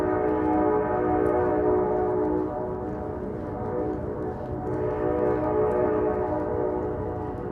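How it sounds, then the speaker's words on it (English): A Long Island Rail Road train in Queens, New York City, rumbles steadily past with a sustained droning, horn-like tone over heavy low rumble, moderately loud and continuous. "Sounds like Long Island Railroad."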